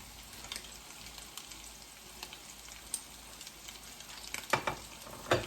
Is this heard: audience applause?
no